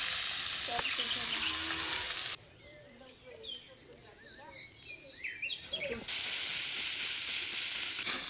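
Leafy lafa greens with turmeric frying in a pan give a loud, steady sizzle that drops away midway, leaving soft chirping birds in the background before the hiss returns.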